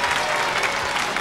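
Baseball crowd at Wrigley Field applauding a Babe Ruth home run, dense sustained clapping and cheering from a large stadium audience.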